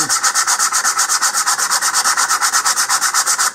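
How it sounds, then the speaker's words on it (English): Rapid, even strokes of sandpaper lightly rubbing across a wooden model rocket part, a rhythmic scratchy rasp repeating about eight times a second, close and clear, then stopping. "we'll just sand this lightly"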